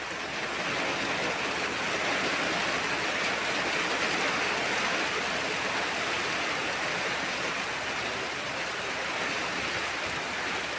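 Heavy rain pours down in a dense, steady hiss with constant broadband roar, loud and unbroken throughout, with no voices over it.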